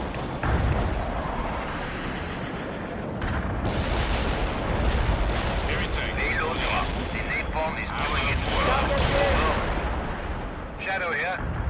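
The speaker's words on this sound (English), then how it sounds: "Airstrike accomplished at the coordinates" Airstrike explosions in the World in Conflict real-time strategy game, a sustained wash of booms and rumbling blasts with crackling bursts, mixed with radio chatter and battlefield noise throughout.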